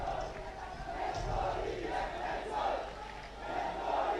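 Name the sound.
crowd cheering at a schools rugby match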